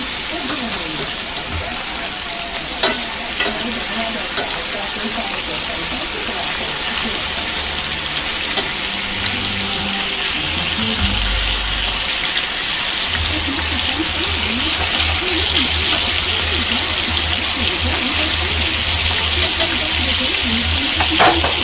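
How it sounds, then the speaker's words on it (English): Meat searing in a hot pan, a steady loud sizzle running throughout with occasional stirring and scraping sounds, while a person talks softly at times. "I'm going to let these sear at least 2 to 3 minutes on this side"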